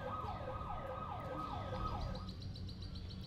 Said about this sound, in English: Muchas gracias, little siren.